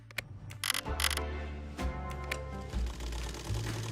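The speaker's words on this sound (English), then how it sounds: "Voila! The sewing machine is working." A sewing machine runs nearby, its motor humming low and steady under repeated mechanical clicks and taps from the needle mechanism, with no voices.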